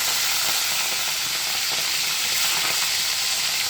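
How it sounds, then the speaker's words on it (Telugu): Prawns sizzle steadily in a pan of hot oil, a loud, dense, continuous frying hiss with small crackles that persists without a break. "ఆ తర్వాత అందులో కొన్ని రొయ్యలు వేసుకుందాం."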